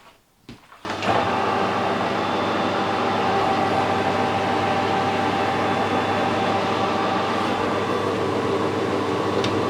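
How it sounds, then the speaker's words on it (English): A metal lathe with a traveling steady starts up after a brief clunk and then runs at a steady, continuous hum with a faint mechanical whine, close and alone. "So I'll start the lathe up"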